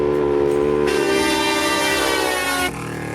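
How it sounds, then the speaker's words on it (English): A Kleinn bolt-on air horn on a 2018 Polaris RZR blares loudly in one long sustained blast, cutting off sharply and leaving a lower mechanical hum of the compressor behind. "nothing's going to do it better than a Kleinn air horn"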